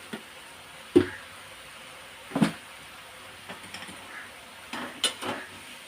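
A spoon scrapes and clinks against a pot while stirring chili powder in a few spaced strokes, with quiet gaps between them and no talking.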